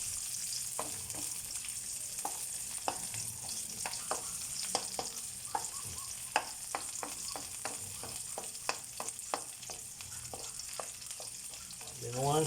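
Onions frying in a pan for chicken à la king, a soft steady sizzle with scattered crackles and pops, fairly quiet and close, no talking over it.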